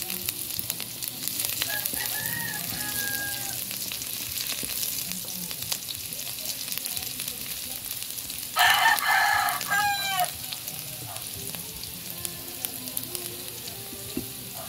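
Garlic sautéing in a pan during cooking of sayote and cabbage gives a continuous low sizzle throughout, with a louder burst of frying crackle midway, distant rooster crowing audible in the background.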